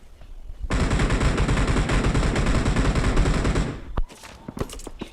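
Sustained loud automatic gunfire from AMR bullets in a shooter video game rattles for about three seconds, followed by a few sharp separate shots and clicks, with no talking.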